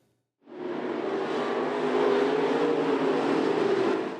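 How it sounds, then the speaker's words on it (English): Race car engines roar steadily at a speedway in Emo, a loud sustained mechanical drone that swells in quickly after a brief silence and holds without a break. "The sound of roaring engines signal that things are getting back to normal in the town of Emo."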